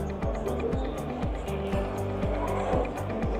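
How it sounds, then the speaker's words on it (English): A small race car on a demo race track starts up and drives with a rhythmic, repeating motor whine, rising and falling with each pass, plus tire squeal, loud and close, with no talking. "So let's start the car."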